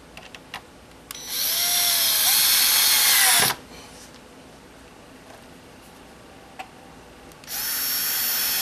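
A power drill drives screws to fasten a straight edge down on a fence-to-stone-wall project: two loud close bursts of whirring, one about two seconds long and another starting near the end, with quiet clicks and handling between.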